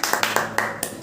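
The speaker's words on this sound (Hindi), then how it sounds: "तो आपकी सबकी जोरदार तालियों के बीच हम स्वागत करते हैं ऋषभ" An audience at a poetry gathering claps to welcome a poet, heard as a brief burst of close, rhythmic clapping.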